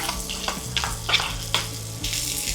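Green capsicum fries in a hot pan for noodles, a soft steady sizzle with a few light stirring scrapes and clicks close by, no voices over it.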